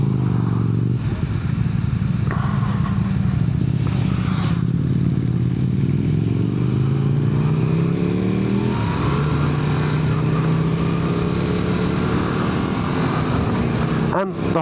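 A Yamaha MT-07 motorcycle engine growls while riding, its pitch repeatedly rising and dropping through gear changes as it accelerates, loud and close with steady rushing wind and a sharp clatter at the very end.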